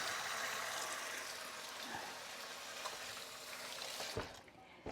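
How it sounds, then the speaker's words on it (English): Tap water runs steadily with a broad, even rush as hands are washed after handling chili powder, with a few soft knocks and a break near the end. "I have to go and wash my hands again now."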